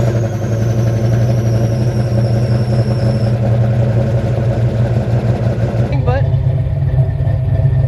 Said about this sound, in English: It's really quiet right now with the Super 44 mufflers,